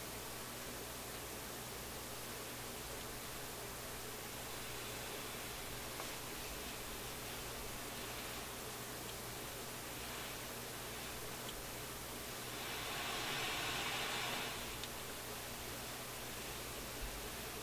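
Steady broadband hiss with a low hum underneath from a Nordmende console tube radio with a bad tube, constant and fairly quiet, swelling slightly near the end.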